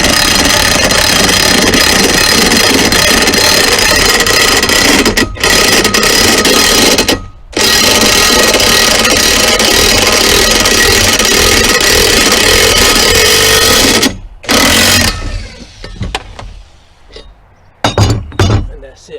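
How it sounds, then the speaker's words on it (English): An impact drill with a 22mm socket installs a lower ball joint into a steering knuckle, giving a loud continuous rattling hammer that stops in brief gaps and then cuts out near the end. "And then use a 22mm socket. Impact drill, if you got one, you're gonna need one"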